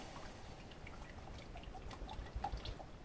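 A quiet, faint stream of heavy whipping cream pouring and dribbling into a pan, with soft drips and trickling throughout and no talking.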